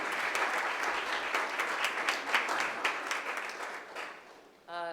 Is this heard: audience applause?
yes